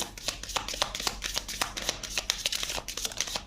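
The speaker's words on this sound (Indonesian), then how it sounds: "Aku mau ambil dari bawah kartu." Tarot cards are shuffled and drawn by hand, producing a steady run of crisp riffling clicks and soft slaps up close, with no talking over them.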